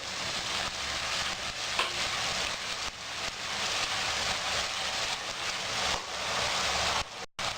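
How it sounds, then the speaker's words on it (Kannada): Ginger garlic paste sizzles and fries steadily in a pan for chicken kabab biryani, a continuous crackling hiss with occasional stirring scrapes, close and alone without talk. "ಇದು ಚೆನ್ನಾಗಿ ಫ್ರೈ ಆಗಲಿ. ಬೆಳ್ಳುಳ್ಳಿ ಶುಂಠಿ ಪೇಸ್ಟ್ ಅದರ ಹಸಿ ವಾಸನೆ ಹೋಗಲಿ."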